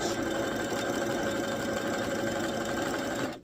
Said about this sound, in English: I am pulling it as I'm sewing. And I'm using a zigzag stitch.